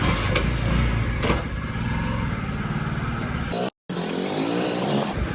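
A motorcycle engine runs steadily and fairly loud throughout on a city street in Raipur, India, with a short cut near the end before it carries on. The engine dominates and no clear voice comes through.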